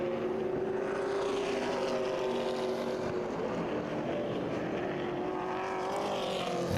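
Late model race cars roar past the start-finish line at Kil Kare, a steady loud engine drone with shifting pitch as the pack streams by, filling the whole stretch without speech.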